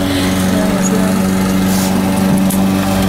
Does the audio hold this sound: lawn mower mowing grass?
yes